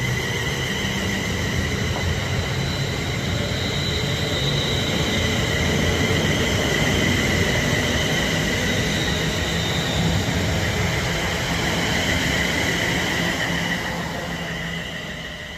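A Class 350 electric multiple unit pulls out of Rugby station bound for London Euston, a loud, steady broadband rumble and hum with a high whine that holds for the whole stretch, then eases slightly at the end.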